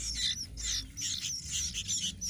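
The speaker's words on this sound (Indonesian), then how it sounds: "Ini ada 4 ekor anakan kutilang." Four sooty-headed bulbul (kutilang) chicks in a nest, faint high chirping in quick overlapping bursts, with a low background hum underneath.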